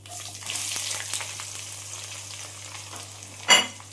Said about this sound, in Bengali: এবার পেঁয়াজটা দিয়ে আমি একটু ভালো করে ভেজে নেব